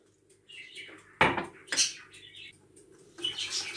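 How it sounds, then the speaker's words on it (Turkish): Strawberry sauce mixture with starch and sugar stirred in a bowl: a few sharp utensil clinks and scrapes against the dish, separated by quiet pauses, close and moderately loud. "Şöyle bir karıştırayım, sonra ocağıma alacağım"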